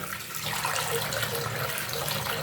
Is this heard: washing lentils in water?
yes